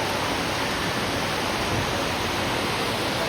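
A dense, unbroken wash of heavy rain falls over a flooded area with knee-high water, the hiss constant and loud throughout with no voices.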